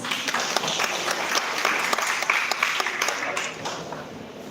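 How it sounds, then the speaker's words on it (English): Audience applause fills the room at a film festival event in Manila after a guest is called on stage, a steady, dense clapping that holds fairly loud throughout and thins slightly toward the end. "A round of applause, please."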